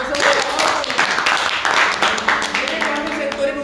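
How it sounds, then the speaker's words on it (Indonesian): A church congregation at a youth service marking Indonesian Independence Day claps in a loud, close burst of applause, with voices and cheering mixed through it. "tepuk tangan untuk kita semua"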